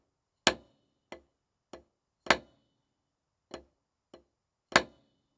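One bar of Charles Wilcoxon's Solo No. 1, a rudimental snare drum solo: seven crisp, isolated strokes in an uneven rhythm, with heavier accented hits among lighter taps. Played solo and fairly quiet.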